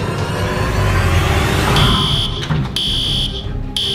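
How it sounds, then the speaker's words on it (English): A fire alarm starts up in a noisy room, its steady high electronic tone sounding in repeated long pulses with short gaps over a constant background din. "Everybody evacuate. That's the fire alarm."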